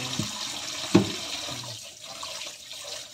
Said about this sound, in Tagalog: Sorry naman, maingay yung tubig ko.